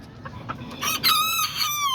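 Farmyard chickens cluck softly before a rooster lets out a loud, close crow that rises and holds to the end.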